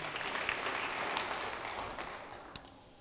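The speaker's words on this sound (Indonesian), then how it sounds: "Yang percaya beri tepuk tangan bagi dia." Church congregation applauding during a sermon, a broad steady wash of clapping heard from across the room that thins toward the end, with one sharp clap standing out.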